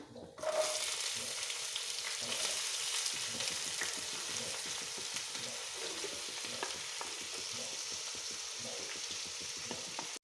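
Sliced onions sizzle steadily in a hot pan for a prawn roast while a spoon scrapes and stirs them, a continuous close frying hiss with repeated soft clatters and no talk.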